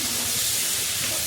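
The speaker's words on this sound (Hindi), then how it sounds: "तो यहाँ पे सब्ज़ी भी छौंक दी हूँ" Vegetables sizzle loudly in a pan after being tempered with spices and asafoetida, a constant close hiss of hot oil with no pauses.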